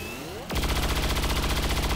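A loud gunshot rings out in XCOM 2 during an assault on the Avenger, a sudden sharp blast after a quiet moment that gives way to a sustained dense rumble, close and alone.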